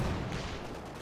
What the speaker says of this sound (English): 6-pounder gun in support here, opening up on the Panther 4, piercing through the frontal armour